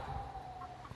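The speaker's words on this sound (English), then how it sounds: "The guinea and the rooster are fighting." Guinea fowl and a rooster fighting, with loud, close, continuous squawking and clucking calls over a busy farmyard background.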